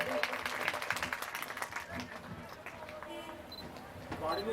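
A crowd at a Ram Katha gathering gives scattered applause to welcome speakers, heard as clapping under and between a voice on a loudspeaker.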